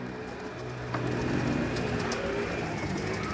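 A pigeon cooing in a low, steady murmur over continuous outdoor background noise, moderately close, with no voices.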